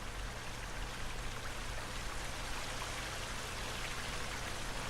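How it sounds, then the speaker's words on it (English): A waterfall in the survival video game The Forest, rendered as a steady, dense rushing hiss of falling water that holds constant throughout with no speech. "It's a waterfall."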